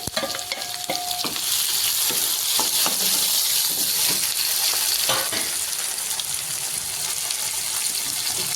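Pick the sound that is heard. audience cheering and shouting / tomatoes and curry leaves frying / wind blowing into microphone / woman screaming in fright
tomatoes and curry leaves frying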